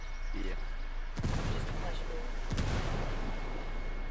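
A frag grenade explosion in the Ghost Recon Wildlands video game: two sharp booming blasts about a second apart, fairly close, over a low steady background hiss.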